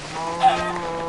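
A chicken in the Minecraft video game gives a short, close cluck that stands out for an instant over a steady droning game background.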